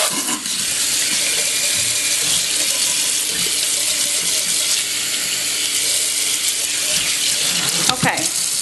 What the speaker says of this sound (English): Let me clean out my sink right quick.